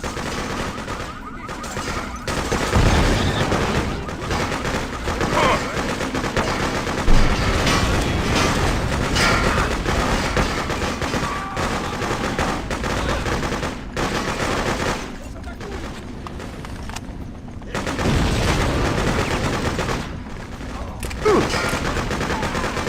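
A mounted gun in a video game hammers out sustained, loud machine-gun fire with scattered booms and explosions, continuing almost without pause through a chaotic battle soundscape.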